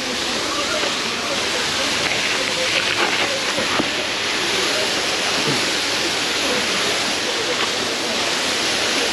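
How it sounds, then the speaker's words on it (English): A waterfall on a hiking trail, heard up close as a continuous, even rush of falling water that fills the whole stretch with steady hiss and roar. "just where the waterfall kind of like goes down"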